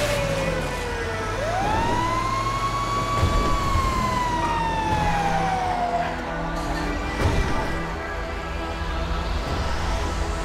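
A fire truck siren in GTA V wails, rising and then slowly falling in pitch, loud over a rumbling engine and traffic noise, with no talking.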